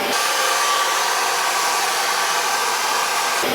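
A Bissell carpet cleaner sucking water back up from carpet, a loud steady whooshing suction roar that starts and stops abruptly, close and alone with no voices.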